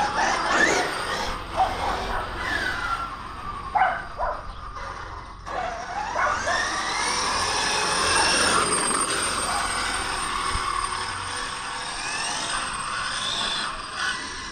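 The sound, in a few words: Smithmaster SCR Pro RC car motor on first test run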